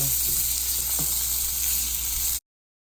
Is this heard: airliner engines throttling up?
no